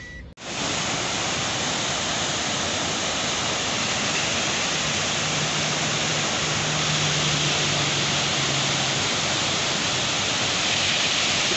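Water rushes across a motorway after a landslide, a loud, continuous roar that stays dense and even from start to finish, with no voices.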